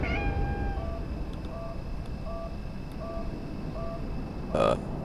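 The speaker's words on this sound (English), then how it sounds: "Hi, cat." A cat meows in the horror video game Conarium: one clear meow up close, followed by a steady electronic hum and faint tonal blips of in-game ambience.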